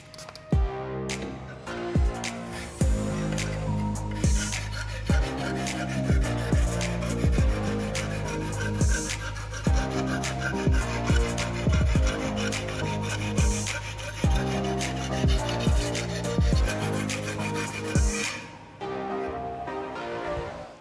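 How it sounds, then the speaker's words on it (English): A knife blade is stroked over fine sandpaper to sharpen it, giving a steady run of close, rhythmic scraping rasps under a faint continuous tonal hum. "I switch to fine sandpaper to refine and sharpen the blade."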